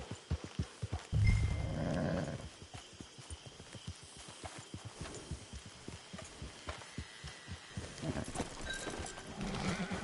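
Hooves clop in a steady rhythmic beat throughout, with a brief snort or whinny early on and a low ambient hum behind.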